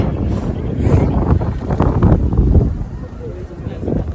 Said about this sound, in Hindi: तो यहाँ बहुत ज़्यादा ठंडी हवा चल रही है।